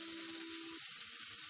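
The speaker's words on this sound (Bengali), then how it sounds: "টমেটোটাকেও আরেকটু কষিয়ে নেব।" Chopped tomatoes fry in a pan for a Bengali curry, giving a soft, continuous sizzle with a faint hum at the start.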